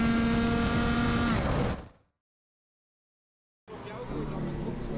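A go-kart engine whines loudly as it accelerates out of the final corner on a hot lap, cuts to silence for about two seconds, then the engine noise returns at a steady level.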